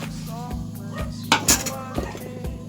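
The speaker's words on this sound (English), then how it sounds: "Clean also the back side of the plates." Plates and saucers clatter and clink as they are washed by hand, with low rubbing and a few sharper knocks of crockery close by, over a faint background hum.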